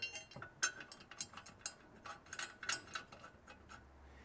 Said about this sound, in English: move your ratchet strap over to the drive shaft to get room for the strap we have to install next